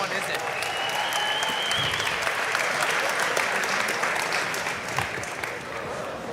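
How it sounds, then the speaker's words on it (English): A crowd at a live fight event applauds for light heavyweight fighter Jason Maravich, a dense, loud wash of clapping that runs steadily throughout, with faint voices mixed in. "a round of applause to his opponent, Jason Maravich"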